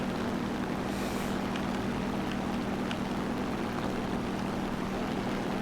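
A Focke-Wulf FW 190 F8 piston fighter engine in War Thunder air realistic battle, the engine close to burning out, drones steadily and continuously with a low, even hum throughout, with no talking.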